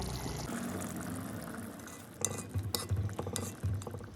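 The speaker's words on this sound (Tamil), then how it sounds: "தேங்காய் பால் விட்டுங்கோ." Coconut milk is poured into a pan and stirred. Faint liquid sounds lead into a series of soft clinks and scrapes from a spoon against the pan, close but quiet.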